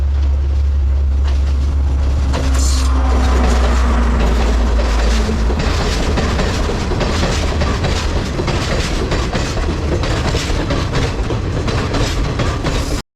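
A train runs close by with a steady, loud rumble and rhythmic clickety-clack of wheels on rails, continuing without a break and with no voices.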